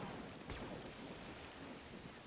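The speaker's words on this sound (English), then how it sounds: "It's very light rain currently." Light rain falls in the Star Wars: Galaxy at War mod on Endor, a steady hiss of rainfall with a soft low thump early on and no speech.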